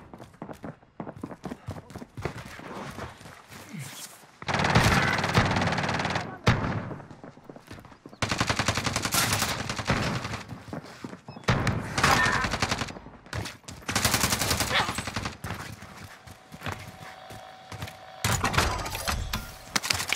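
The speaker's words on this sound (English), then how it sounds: "They're shooting at me!" Gunfire in Call of Duty: Modern Warfare comes in loud, dense bursts of automatic fire separated by brief lulls, with clattering mechanical sounds in between.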